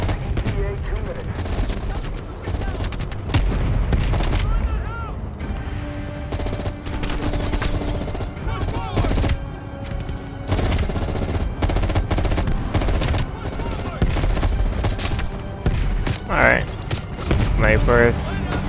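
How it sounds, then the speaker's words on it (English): Sustained automatic rifle fire and scattered gunshots from a Call of Duty Black Ops Cold War campaign firefight, dense loud bursts and single cracks throughout, with talk and game sound effects mixed in. "you followed the road right toward the sound of gunfire"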